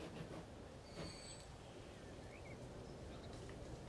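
Train in Transport Fever 2 rumbles along steadily at moderate distance, a continuous low rolling noise with faint high squeals and no talk.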